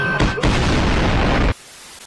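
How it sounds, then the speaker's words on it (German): A loud, dense burst of booming noise roars for about a second and a half, then cuts off abruptly, leaving a faint low hiss. "Die komplette Erde explodiert."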